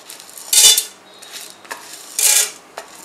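Dals such as chana dal and urad dal tossed into hot oil in a kadai give two bright bursts of clattering and sizzling, with light scraping in between, close and without talk.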